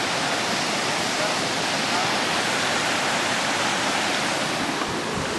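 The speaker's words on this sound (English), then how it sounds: "there's a nice river right next to me" A river rushes right beside a hiking trail near a large waterfall, a loud, steady broadband roar of flowing water that fills the whole stretch without letting up.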